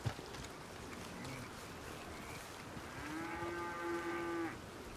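Cattle on a ranch in the Red Dead Redemption 2 video game give a long, drawn-out moo near the end, preceded by a fainter low call, over soft ambient game background.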